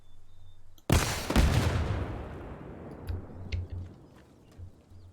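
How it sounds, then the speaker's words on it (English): Gunfire at a wall in the video game ArmA: Reforger: a loud rapid burst of close shots with a long reverberant tail, then a few scattered fainter cracks and echoes. "If I shoot at that wall..."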